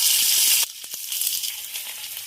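Fennel seeds and onion go into hot ghee for chicken do pyaza, giving a loud burst of hissing sizzle that drops off sharply after a moment into a softer, ongoing fry.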